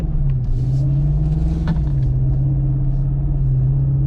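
A Lexus car drives along a road, its steady low engine drone and tyre rumble holding constant and close throughout with no talk.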